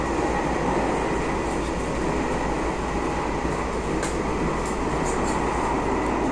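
A train from Kuala Lumpur Sentral to Ipoh rolls steadily on rails, a continuous rumbling roar with faint rhythmic rattling and occasional higher squeaks, no talking.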